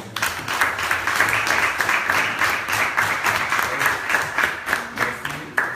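An audience at an orphanage visit in Divo applauds steadily and enthusiastically throughout, dense continuous clapping close by with some cheering mixed in.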